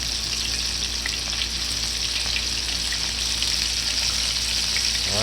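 Battered calamari rings sizzle steadily in hot oil, a dense, even crackle that stays loud and constant for the whole stretch, with faint pops and no talking.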